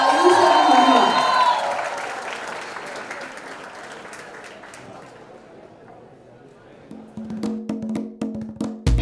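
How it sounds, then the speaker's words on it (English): Crowd at a fan event cheering and clapping for Ayush and Manu, a loud burst that fades over several seconds, followed by a few rhythmic claps as music starts and a voice speaks. "can we have a huge round of applause once again for Ayush and Manu"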